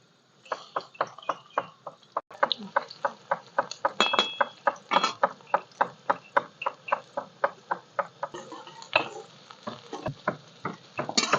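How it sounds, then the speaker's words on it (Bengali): Whole garam masala and onion frying in hot oil in a pan for a spicy country-chicken curry, heard as a steady sizzle broken by a long run of sharp, evenly spaced clinks and stirring taps, fairly close, with no talking. "তেল পুরো গরম হয়ে গেছে গরমে গরমে গরম মশলা তার সাথে দিয়ে দেবো পেঁয়াজ"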